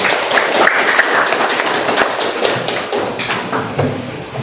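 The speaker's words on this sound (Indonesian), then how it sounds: "Dulu tepuk tangan dulu." Classroom applause: a short burst of hand clapping from a group of students, dense and close, thinning out toward the end.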